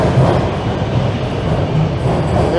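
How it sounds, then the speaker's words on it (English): A Toronto subway Line 1 train rumbles steadily as it pulls away from the platform at Bloor-Yonge Station, a loud continuous roar with faint wheel squeal and no voices. "There's a northbound line one train that just rolled out."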